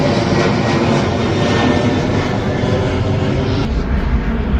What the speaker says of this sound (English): We've had 3 planes so far, about every hour, every 40 minutes.